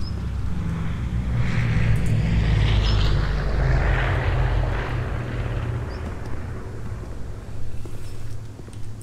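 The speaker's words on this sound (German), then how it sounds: "die nervig laute Flugzeuge" Loud airplanes roar overhead in the Café Owner Simulator video game, a sustained heavy engine drone that swells and fades slowly over the whole stretch with no talking.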